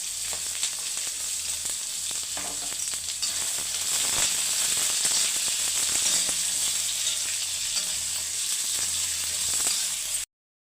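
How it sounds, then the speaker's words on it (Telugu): Chopped onions fry in hot oil in a pan for a bean curry, giving a continuous bright sizzling hiss with scattered crackles and pops, steady and close throughout. "కట్ చేసుకున్న ఎర్రగడ్డలు వేసి బాగా పచ్చివాసన పోయేంత వరకు వేయించుకోవాలి"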